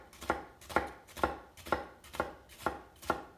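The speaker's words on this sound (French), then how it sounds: "On coupe bien mince ici. On fait des languettes bien minces." Knife slicing an onion into thin strips on a cutting board, seven crisp evenly spaced chops close up, each a sharp cut-and-tap, with quiet gaps between.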